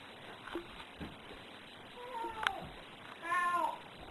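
A cat meows clearly several times, with rising and falling cries, close and soft, over a quiet room hiss, with faint low sounds between the calls.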